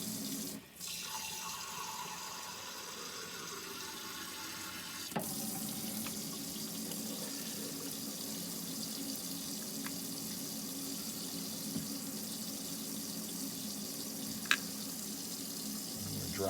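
Hot water running steadily from a tap in a NuCamp TaB 400 camper fed by an Alde water heater, a continuous close hiss of flow with a few small clicks and no talking.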